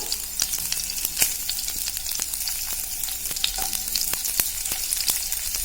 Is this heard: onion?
yes